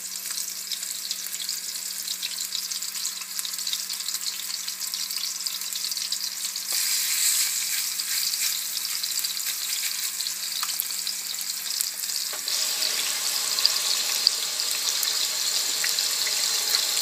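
Chicken and apple patties frying in a pan, five at a time, a constant close hiss and sizzle of hot oil that grows slightly brighter partway through.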